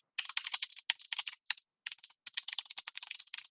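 Fingers type a template name on a computer keyboard, a close, crisp run of quick key clicks with two brief pauses, alone and without talk.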